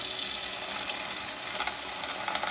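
Water pours steadily from a tap into a pan of dry pinto beans being soaked overnight, a close, continuous rushing splash with no speech.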